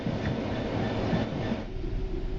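A Class 66 diesel locomotive in Train Sim World 4 on the East Coast Main Line, a steady, loud rumble of engine and rolling stock that keeps going throughout with no break.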